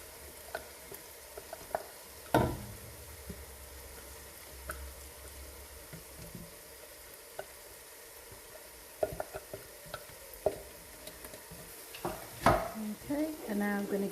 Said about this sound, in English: Going to slowly now add the garlic and ginger.